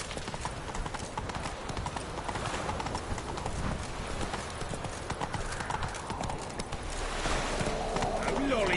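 Roach, the horse in The Witcher 3, gallops with rapid, rhythmic hoof clip-clops across the whole stretch, with a voice talking over the hoofbeats and a few bird calls in the background.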